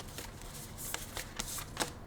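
Tarot cards are shuffled close up, a quiet run of rapid papery riffles and soft flicks in quick succession with no talking.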